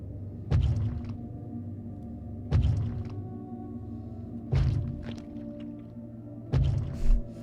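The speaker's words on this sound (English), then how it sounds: "I hear a noise at the door, as of some immense slippery body lumbering against it." A huge, slippery body lumbers heavily against a door: four deep, booming thuds land about two seconds apart, each followed by a brief rattle, over a low steady hum.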